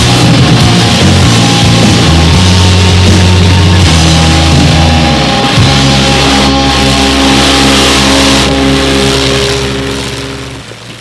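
A monster truck engine with its exhaust pointed straight down at the ground roars loudly and close, its pitch stepping up and down through several revs before easing off slightly at the end, with no voices.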